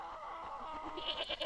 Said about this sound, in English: Ooh, goat.